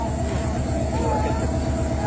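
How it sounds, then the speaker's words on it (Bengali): The Kurigram Express train reverses slowly on a Bangladeshi rail line, giving a loud, steady low engine rumble with faint rhythmic pulsing throughout. "এখন গাড়িটি আস্তে করে ব্যাক দেয়া হচ্ছে পিছনের দিকে"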